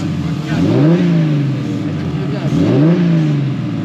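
A BMW E36 325i turbo inline-six fitted with Maxpeedingrods connecting rods, caught revving on one of its first starts: loud, close engine sound that rises and falls in two rev swells.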